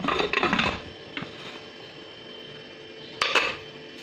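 A pressure cooker lid closed on a stove, heard as a few close metallic clinks and clatters, then a quiet pause and another short knock of metal.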